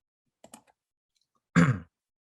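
A computer mouse clicks twice in quick succession, faint and close, followed after a pause by a louder, rougher burst of noise.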